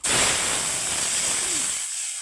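Dal tipped into hot oil with green and dried chillies, cinnamon and panch phoron gives a loud, steady hiss and crackle that settles and fades toward the end.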